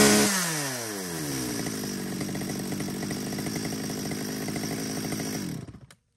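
A used chainsaw from a lot of Japanese-market saws such as STIHL, ECHO KIORITZ, Komatsu and Shindaiwa rips into life with a pull-start, then runs at a steady loud buzzing idle close by before cutting off.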